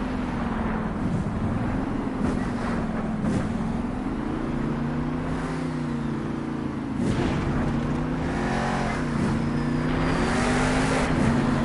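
A Monster Jam monster truck, Sparkle Smash, runs a practice lap in a Las Vegas stadium, its engine droning loud and steady with the pitch rising and falling as it accelerates and eases off throughout.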